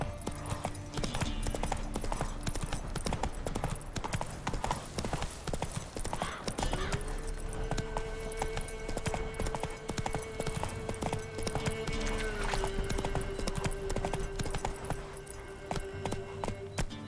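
Roach the horse's hooves clip-clop in a steady walking rhythm through The Witcher 3: Wild Hunt, sitting under ambient game sound with a faint tonal hum.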